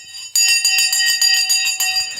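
A bell rings loudly and close in rapid repeated strikes, about eight bright metallic rings in quick succession with a shimmering sustained tone, after a quieter opening moment.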